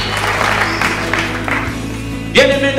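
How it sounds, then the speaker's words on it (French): A church congregation applauds, a steady wash of clapping and crowd noise sustained throughout at moderate loudness, with a louder burst of sound near the end. "Nous acclamons et puis nous allons nous asseoir"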